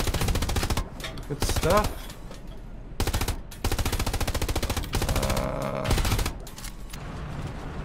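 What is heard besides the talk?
machine gun fire in a tank video game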